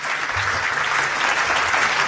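An audience at a 1990 Christmas evening show gives a dense, sustained ovation of clapping, loud and continuous throughout with no talk over it.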